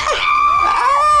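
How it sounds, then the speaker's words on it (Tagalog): A person screams loudly and close-up in a transparent-floor cable car at Lantau Island, one sustained high-pitched wavering shriek. "Bakit mo sumigaw, tumigil ka."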